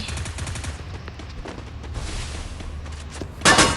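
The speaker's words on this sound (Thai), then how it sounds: "เฮ้ยเว้ยมีคนยิง มีคนยิง" Gunfire in a video game cracks out in rapid bursts of shots at moderate distance, ending with a louder, closer blast.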